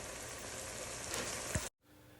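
A wooden spoon stirs softened vegetables and Cajun seasoning for pastalaya in a hot pot, with a steady, close sizzle and a few scrapes before a short silence.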